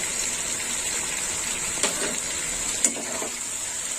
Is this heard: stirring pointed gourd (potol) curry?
yes